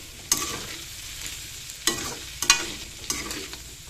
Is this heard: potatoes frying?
yes